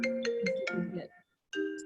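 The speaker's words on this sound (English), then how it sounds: "The phone's ringing, I hear it." A phone rings in a close, clear electronic pattern, a few quick bright tones, a brief gap, then the ring starts again, loud and alone without talk.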